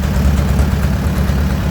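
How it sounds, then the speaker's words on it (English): A 1955 tiller with a built tractor-pull engine runs loudly and steadily close by, a dense low rumble with no talking. "1955 tiller. It's got a built engine in it."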